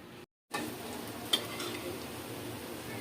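Snacks for iftar frying in hot oil, a soft continuous sizzle heard close with one sharp tap of a utensil partway through, following a brief dropout at the start and no voices.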